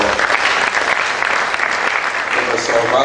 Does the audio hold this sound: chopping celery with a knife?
no